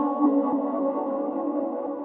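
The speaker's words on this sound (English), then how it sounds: "Now for the second vocal chop, I added like a whole bunch of effects right here" A second vocal chop in a pop beat, heavily processed with many effects, gives a warm, smeared sustained tone with soft low thumps pulsing beneath; fairly loud and close, with no talking.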